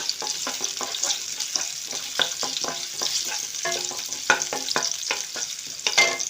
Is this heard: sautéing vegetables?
yes